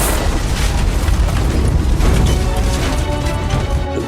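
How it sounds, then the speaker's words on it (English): Heavy naval shell explosions strike the bridge of the destroyer Johnston, a dense, loud roar of booming blasts and crashing debris that rolls on without pause for several seconds. "Seconds later, 3 6-inch shells, possibly from Yamato, smash the bridge"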